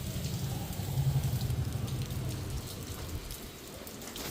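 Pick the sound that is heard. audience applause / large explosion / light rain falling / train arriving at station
light rain falling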